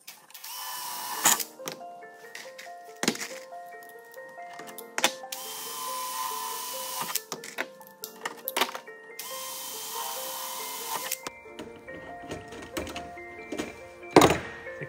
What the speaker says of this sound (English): it's time to just suck it up and drill some holes